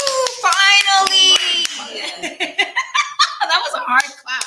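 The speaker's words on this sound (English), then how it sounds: "That was a hard clap." One sharp, hard hand clap rings out in a podcast studio, with chuckling and excited voices around it.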